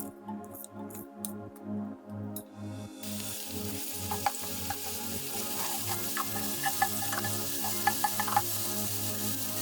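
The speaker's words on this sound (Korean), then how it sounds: "팬에 기름을 두르고 마늘을 살짝 볶아 향을 내줍니다" Garlic frying in oil in a pan for stir-fried pork belly udon, starting after a few seconds of low rhythmic tones with a sudden steady bright sizzle, close, with scattered small crackles and pops, no talking.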